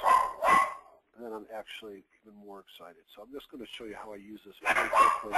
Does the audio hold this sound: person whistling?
no